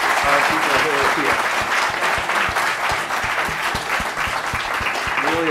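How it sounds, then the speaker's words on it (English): An audience applauding the panelists after a global health discussion, sustained dense clapping with a voice speaking over it and low rhythmic thumps underneath. "I just want to give a big round of applause and thank you to our panelists"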